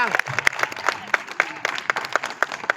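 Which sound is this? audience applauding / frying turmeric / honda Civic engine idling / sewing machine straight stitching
audience applauding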